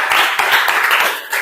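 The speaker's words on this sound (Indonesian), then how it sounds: "tepuk tangan dulu untuk kelompok 2" A group in a classroom-style gathering claps briefly for the second group's presentation, a short close burst of dense, overlapping hand claps that trails off within about a second.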